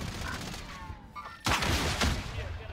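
Gunfire in the video game Call of Duty Warzone comes in quick rattling bursts and sharp impacts with a heavier blast partway through, close and loud over a busy game soundscape.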